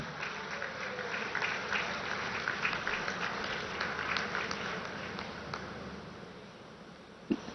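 A large crowd at an official event in Deoghar welcomes the Prime Minister with a dense, sustained wash of applause. It sounds distant and steady, then tapers off at the end.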